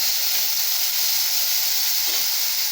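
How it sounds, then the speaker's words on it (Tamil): Onions sizzling in hot oil for Coimbatore-style rice upma, after chana dal has browned: a steady, loud hiss of frying that fills the whole clip with no one speaking. "இப்போ நம்ம வெங்காயம் போட்டிருக்கோம்."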